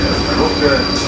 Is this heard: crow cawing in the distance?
no